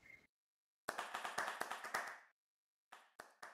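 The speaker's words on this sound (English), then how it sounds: "Please give yourself a round of applause" Debaters at a debate session clap for themselves, first a brief burst, then a gap, then a dense flurry of close claps lasting over a second, then silence, then a few scattered final claps.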